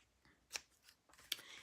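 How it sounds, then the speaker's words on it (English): Two quick, crisp snips of ribbon scissors trimming a paper card base, close and quiet, separated by a short pause in an otherwise hushed room. "I'm going to trim this out with my ribbon scissors"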